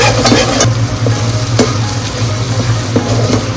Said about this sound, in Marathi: मिरचीचं वाटप आहे हे तेलावर चांगलं परतून घ्यायचं आहे.